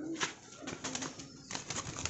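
Low pigeon coos repeat softly against a steady background hiss, with faint rustling between calls.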